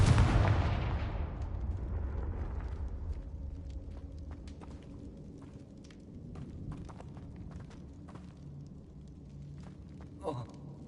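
A blasting spell from the Hogwarts Legacy video game goes off with a loud, booming explosion at the start that rolls into a long fading rumble, followed by faint scattered clicks and a small burst near the end.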